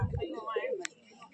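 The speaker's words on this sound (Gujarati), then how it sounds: "મોટા કબૂતર છે, જોઈ લેજો બધા." Large pigeons give a brief, soft low coo, followed by a short faint chirp. Someone is talking nearby.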